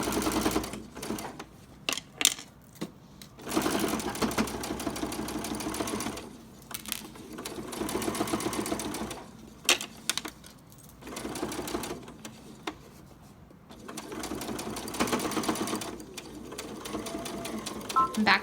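A home sewing machine stitches along the edge of a fabric triangle piece for a table topper, running in steady whirring bursts that stop and restart several times, fairly close and alone with no talk.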